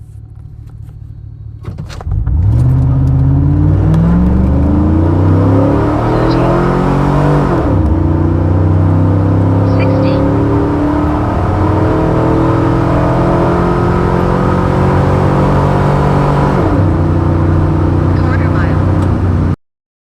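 A truck fitted with 1 7/8-inch long tube headers and an X pipe launches on a quarter-mile pass, engine revving hard and climbing through several gear shifts, loud and close, then stopping abruptly.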